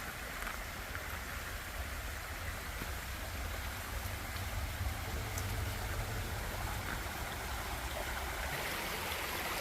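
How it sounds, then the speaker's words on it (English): A forest stream along a hiking trail flows in a steady, broadband rush of water, constant and close, with no voices. "I have to come on another stream."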